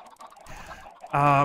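A chicken clucking in a modded Minecraft farm, a short sharp cluck rising loudly at the end after softer murmuring and a faint voice.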